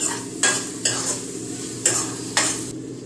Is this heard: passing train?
no